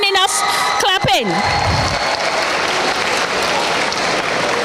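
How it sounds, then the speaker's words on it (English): Enthusiastic audience applause fills an awards ceremony at a national science fair, a dense steady wash of clapping that swells loudly from the start and holds. A brief amplified voice cuts in near the opening. "I'm not hearing enough clapping."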